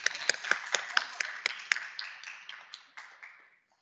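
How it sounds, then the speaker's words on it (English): Applause for a guest speaker at a National Criminal Justice Month keynote event, a smallish audience clapping with distinct, separate claps that thin out and fade over a few seconds. "So can we give one more round of applause to our guest"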